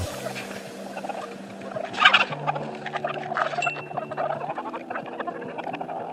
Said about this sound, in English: Oh, there's our roosters. And our other little bantam chickens.